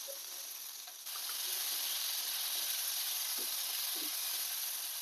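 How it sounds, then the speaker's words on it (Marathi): Cluster beans (gavar) sautéing in oil in a pan for a village-style spicy curry, giving a steady close sizzle that swells louder after the first second, with a couple of faint clinks from stirring and no talk. "एक दोन ते तीन मिनिट आपल्याला गवार तेलावर परतून घ्यायचे"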